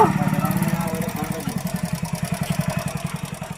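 A stuck tractor's engine chugs in a steady, fast rhythm of low thumps, loud and close, running throughout with a faint voice in the background.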